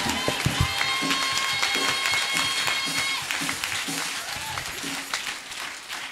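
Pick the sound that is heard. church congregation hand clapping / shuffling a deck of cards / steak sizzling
church congregation hand clapping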